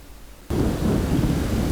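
Thunder and rain in Blade & Soul: a quiet lull that breaks abruptly into a loud, sustained rumble of thunder over heavy rainfall, staying dense and close to the end.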